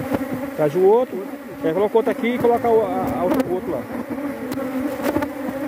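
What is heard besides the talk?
bees buzzing during hive transfer to standard box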